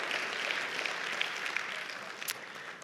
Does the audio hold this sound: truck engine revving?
no